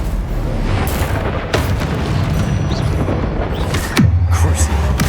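Spell blasts and explosions from combat in the video game Hogwarts Legacy, a dense, continuous barrage of booms and bursts with a loud low impact near the end.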